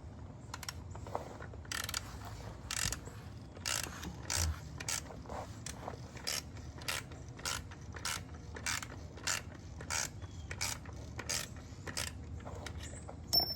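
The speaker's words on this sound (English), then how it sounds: "Before I tighten them up to 30, I'm going to get them both pretty snug, and then I'll torque them." A ratchet works the transmission mount bolts on an Audi RS5 B9.5, giving rhythmic bursts of sharp pawl clicks at regular intervals, close and fairly quiet with no talk.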